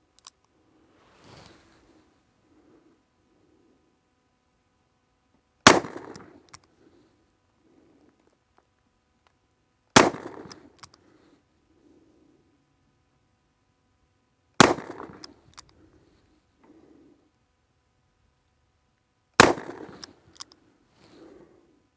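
A 2021 Colt Anaconda revolver firing full-load 158-grain .357 Magnum rounds at a target outdoors: four loud, sharp shots spaced about four to five seconds apart, each with a short ringing tail, and no voices.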